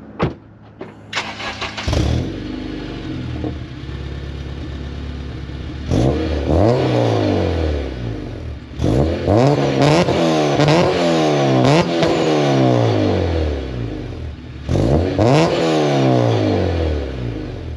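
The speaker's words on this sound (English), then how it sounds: "let me go ahead and do some revs for you, because we do have a header now" A Honda Civic Si fitted with a new header is revved hard several times after the engine starts. Loud, close bursts of rising and falling engine tone are separated by brief idle stretches.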